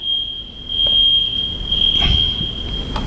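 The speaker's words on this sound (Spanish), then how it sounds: "Así suena el alarma, ¿no es cierto?" An alarm sounds a sustained, piercing high beep, loud and steady, with a few soft knocks in the background and no speech.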